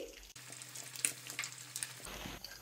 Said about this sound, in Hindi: कचौरियाँ हमारी तैयार होंगी आंच हम बिल्कुल स्लो कर देंगे पाँच से छः मिनट गुजर चुके हैं ककौरी को फ्राई होते हुए